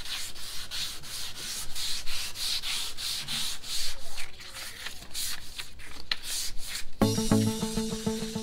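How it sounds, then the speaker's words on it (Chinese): Sandpaper rubbed by hand across a yellowed, oxidized car headlight lens during restoration, a steady close scratchy back-and-forth rasp in quick regular strokes, with a brief clattering handling noise near the end. "繼續打磨"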